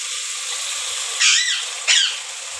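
Spice masala for a fish curry is sautéed in a pan, with a steady close hiss and two brief louder sizzling scrapes as it is stirred.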